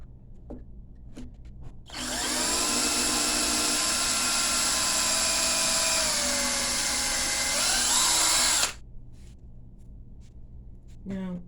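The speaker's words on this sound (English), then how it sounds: "I'm going to drill the hole" A power drill whines steadily at high speed for several seconds while drilling a hole into wood, its pitch shifting slightly as it bites in, then cuts off abruptly.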